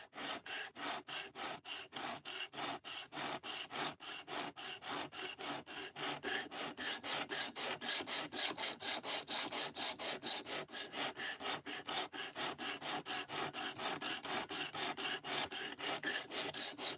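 A knife edge is drawn rhythmically across a sharpening stone or rod, producing steady, fast, raspy scraping strokes that continue evenly throughout at moderate closeness, with a faint fan hum underneath.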